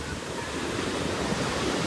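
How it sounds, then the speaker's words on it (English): Ocean waves wash along a New Zealand North Island coast in a constant, loud roar of surf mixed with wind buffeting the microphone, with no voices. "it's really different ocean here"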